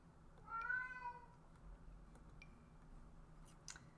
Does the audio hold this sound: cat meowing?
yes